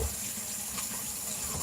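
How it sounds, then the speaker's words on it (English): Tap water runs steadily into a kitchen sink during handwashing with soap, a continuous close splashing hiss with no talking. "I'm like washing my hands, some good soap and water."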